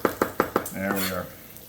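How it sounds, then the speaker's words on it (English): Bacon in a pan is pushed around with a few sharp knocks of a utensil against the pan, followed by a brief sizzle and a voice talking. "So now we'll just get this bacon moving around a little bit."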